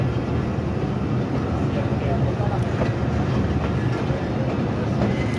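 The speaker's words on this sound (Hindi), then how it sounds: "तो यहाँ पर ट्रेन बहुत स्लो स्लो जा रही है" Pakistan Railways' Jaffar Express passenger train creeping slowly along track on the Quetta to Mach route, giving off a steady, close, continuous rumble with faint rail clatter and no pauses.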